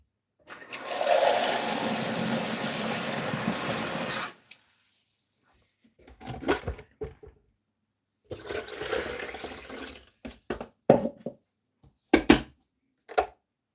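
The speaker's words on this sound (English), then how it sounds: "I put some water in the kettle" Tap water pours into a kettle in a steady four-second stream, followed by scattered knocks, clinks and shorter bursts of handling noise close by.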